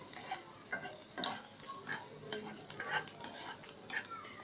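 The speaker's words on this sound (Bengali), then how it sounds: "এখানে আমি হালকা করে রসুনটা ভেজে নিয়েছি" Finely minced garlic, about two cloves, frying lightly in hot oil in a pan, soft sizzling with repeated spatula stirs and scrapes, fairly quiet and close.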